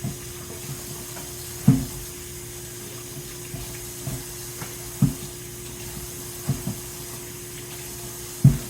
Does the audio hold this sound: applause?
no